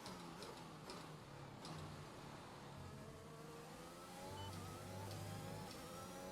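A Formula 1 car engine in the F1 2021 video game at Imola drones steadily at a fairly quiet level, its revving pitch shifting slightly, with faint ticking over the top.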